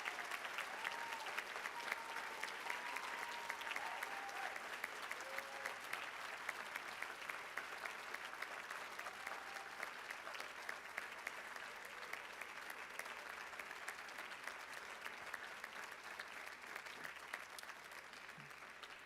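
Sustained audience applause at a school baccalaureate ceremony as newly elected honor society members stand, a steady, fairly distant patter of many hands that continues evenly with faint voices mixed in.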